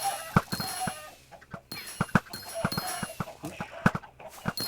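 Minecraft chickens cluck in short, irregular bursts, repeated several times, close and fairly loud against a quiet background.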